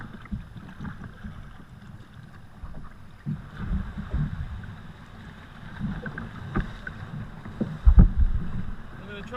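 A sea kayak is paddled into a narrow channel leading to coastal sea caves, with close splashes and paddle strokes over water sloshing against rock and gusts of wind buffeting the microphone.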